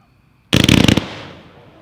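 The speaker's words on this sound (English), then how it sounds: "Number 5 is a 13-shot instant slice, ghost slice, red, blue," A 13-shot instant-slice ghost-slice firework cake in red, blue and green, letting off a rapid burst of about a dozen loud crackling shots in half a second, then a fading rumble.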